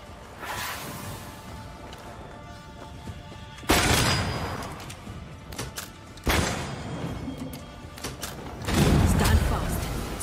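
Gunfire in the video game Banishers: Ghosts of New Eden comes as a few loud, abrupt blasts spread across the stretch, each followed by a short rumbling decay over a busy game soundscape.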